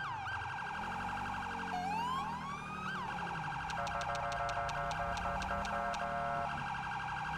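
Ambulance siren in GTA V, a loud continuous wail cycling steadily, joined partway through by a rapid chirping yelp pattern, with no talking.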